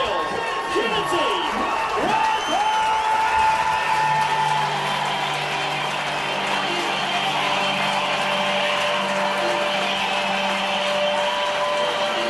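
A large stadium crowd at a Wakefield Trinity versus Salford rugby league match roaring and applauding the team entrance, a dense wall of noise with a public address voice and sirenlike tones over it.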